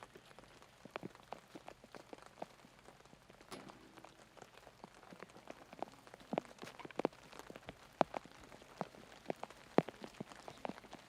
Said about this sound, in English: I'm just listening to the rain.